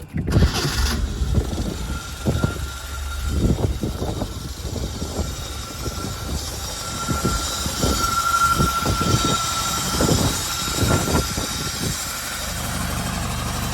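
A Mk2 Ford Escort 2.0L Pinto engine on twin 45 carburettors, with a sticking throttle linkage, idles and revs unevenly, bursts of throttle rising and falling over a steady mechanical drone, recorded up close.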